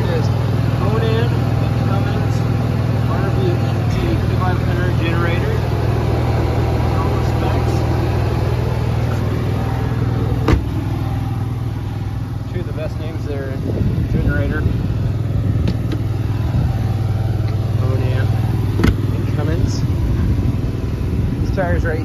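An Onan generator running on a 2015 Jayco Precept RV camper, a steady droning hum that continues throughout while someone talks over it.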